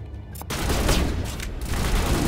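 Sustained machine gun fire from Mass Effect 1, a dense continuous roar of rapid shots, loud and close, running steadily after a brief quiet start.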